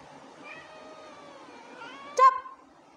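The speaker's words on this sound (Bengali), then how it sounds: "শুধু ম্যাও ম্যাও।" A house cat gives a drawn-out, rising meow, followed by a sharper, louder short cry near the end. The calls are close and clear against a quiet background.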